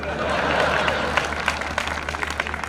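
Audience applause at a Hindi comedy poetry gathering, a steady wash of clapping from a sizeable crowd that sounds fairly near, with scattered sharper claps standing out and voices murmuring faintly underneath.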